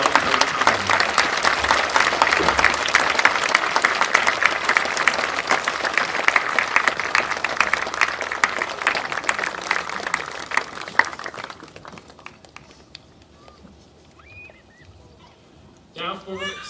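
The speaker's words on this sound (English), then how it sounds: "Please join me in a round of applause to thank Ms. Linda Weiss for her service" A graduation audience at Eastport South Manor High School applauds retiring staff member Ms. Linda Weiss. The dense, sustained clapping runs loud for about eleven seconds, then fades to near silence before a brief burst of sound at the end.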